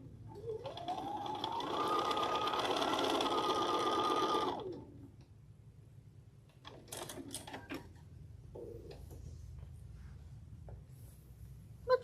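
A home sewing machine runs a quarter-inch seam in one steady whirring burst of about four seconds, rising in pitch as it speeds up, then stops, followed by faint clicks and handling noises.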